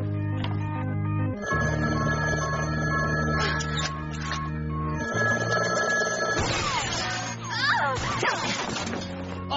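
A telephone bell rings repeatedly in steady bursts, with a low musical drone and some voices and commotion rising toward the end.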